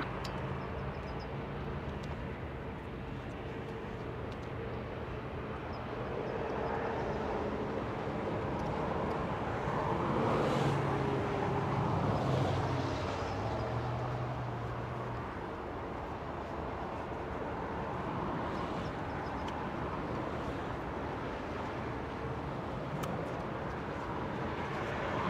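A Boeing 787 Dreamliner jet takes off at Los Angeles International Airport, its engines a broad continuous roar that swells toward the middle and stays steady from a distance.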